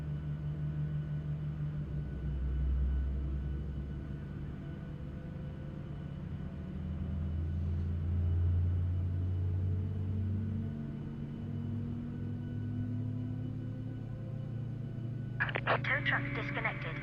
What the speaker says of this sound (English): Right, we'll listen to this engine start then.